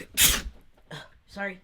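A single sharp sneeze bursts out loud and close at the start, followed by short spoken remarks from nearby people.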